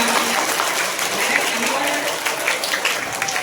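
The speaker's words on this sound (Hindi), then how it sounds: "तालियां, बिल्कुल तालियां तो बजाएं, इन्होंने इतनी मेहनत की" Audience clapping at a prize ceremony for students, a steady wash of applause with some voices murmuring through it.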